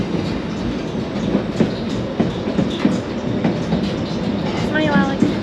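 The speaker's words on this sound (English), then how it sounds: "I'm on the outside of the White Pass train" The White Pass tourist train out of Skagway rolls along the rails in a steady rumble with rhythmic clickety-clack wheel beats and a brief high wheel squeal near the end, heard from outside the car.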